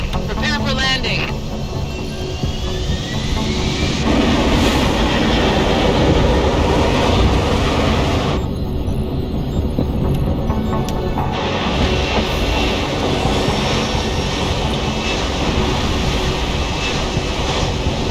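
An aircraft landing in the game Deus Ex: Human Revolution gives a loud, steady engine roar and rumble throughout, with a voice speaking over it.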